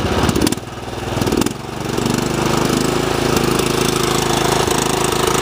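A Craftsman R1000 riding mower engine chugs at idle with a few quick throttle blips, then revs up and holds a loud, steady, higher drone close by.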